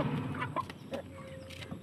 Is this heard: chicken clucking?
yes